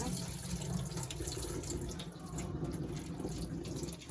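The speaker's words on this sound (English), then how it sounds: "Wash the peas" Tap water runs steadily into a sink, close by, with splashing as peas are rinsed under the stream.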